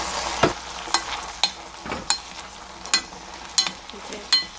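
Peanuts braise slowly over low heat in a partly covered pot, with regular soft pops and bubbling bursts over a quiet simmering hiss.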